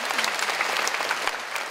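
Audience applause at a concert, a dense, lively patter of many hands clapping together at moderate volume.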